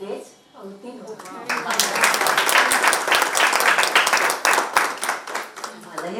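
An audience claps after a Marathi poem recital in a kavita-natya performance, the applause building quickly into steady, dense clapping with a few sharper claps standing out, after a faint voice at the start.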